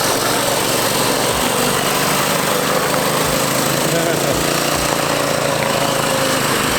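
A mini ATV with a swapped 212 engine idles close by, a steady buzzing drone that runs throughout, with a voice talking over it.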